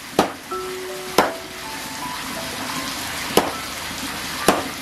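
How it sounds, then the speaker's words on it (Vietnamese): Trám fruits pounded inside a plastic bag in a mountain-style home kitchen, giving four sharp, separate thuds spaced about a second or two apart, close and fairly loud over a quiet background hum. "Đây là phải đập qua cho túi bóng rồi đập."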